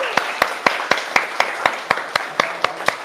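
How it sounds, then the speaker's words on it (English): An audience claps for a group of singers, a sparse, even run of about a dozen sharp claps over a few seconds, near and fairly loud. "can we get another hand of applause for all the amazing singers on here?"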